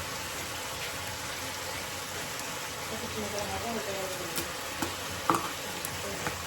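Potatoes frying in a pan with turmeric powder and salt give a steady, even sizzle throughout, with a few brief clicks and stirring taps near the end.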